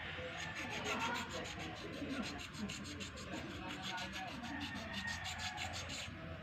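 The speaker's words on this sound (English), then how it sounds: "That's why we need to sand it so that we can still use the lower brake pads." Oil-contaminated bicycle brake pads from a hydraulic caliper are sanded by hand, giving a quiet, continuous rasping scrape with a steady, even rhythm.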